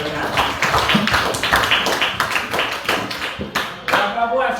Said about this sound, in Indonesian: Tepuk tangan dulu kalau benar.